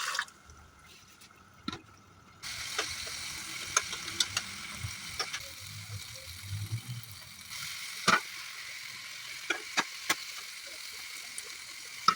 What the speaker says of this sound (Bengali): চলো এবার সয়াবিনের তরকারি রান্না করবো।